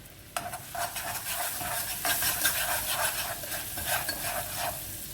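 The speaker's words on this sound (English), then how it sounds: "I let that saute for like 2 minutes" Fresh garlic sautéing in a pan sizzles close up, starting with a sharp burst of hiss and then carrying on with repeated stirring scrapes that pulse in waves over a steady fry.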